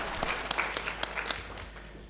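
An audience at a Holi comedy performance in Noida claps in a brief burst, a dense patter of hands that starts fairly loud and fades gradually over about two seconds.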